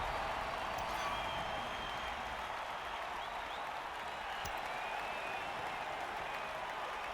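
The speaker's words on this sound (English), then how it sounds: "Cheering fans." Crowd of fans in a Blood Bowl video game roars in a steady, wash-like cheer that holds constant, with faint whistling tones drifting through and no pauses.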